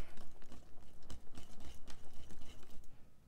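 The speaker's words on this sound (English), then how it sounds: "So I just have a few more little lumpy bumpies in here I'm trying to whisk out." A whisk beats lumps out of instant pudding mixture in a bowl, a fast, steady, regular tapping and swishing rhythm heard up close.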